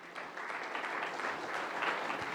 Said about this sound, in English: A very big round of applause, everyone. Please keep applauding while we felicitate them.